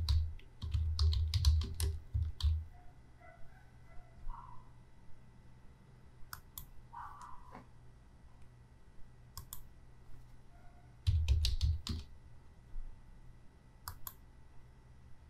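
Someone types on a computer keyboard in a quiet room, with bursts of rapid key clicks separated by pauses and occasional single taps.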